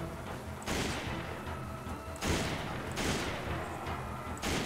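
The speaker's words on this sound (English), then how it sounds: "keep shooting him in the face" Gunfire from Resident Evil 5 bursts out in four loud, sharp shots spaced about a second or so apart, each trailing a short echoing decay, with no voices.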